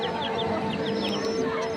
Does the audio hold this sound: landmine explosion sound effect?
no